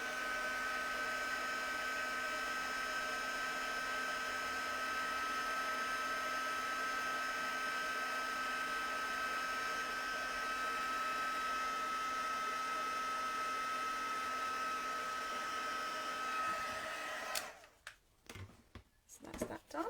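A heat tool blows a steady, even whir of hot air over a stamped spring Easter card, running continuously for most of the stretch before cutting off into a few brief handling noises.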